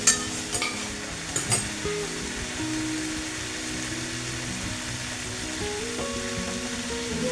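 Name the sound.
stirring potato and cauliflower into fried spice paste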